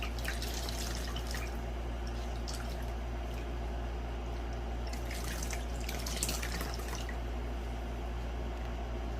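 Water runs steadily from a tap while a face is rinsed, a continuous soft splashing with occasional louder splashes and a low hum underneath, close, with no speech.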